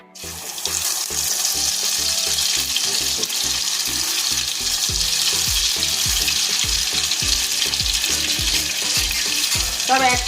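Marinated chicken pieces frying in a pan for a homemade garlic chicken dish give a steady, loud sizzle throughout, with repeated clattering stirs and scrapes at a fairly even rhythm.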